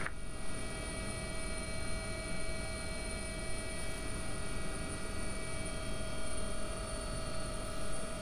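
Simulated AW139 air ambulance helicopter landing in London, a constant dense rotor and turbine drone with steady high-pitched whine, unbroken and even in level for the whole stretch.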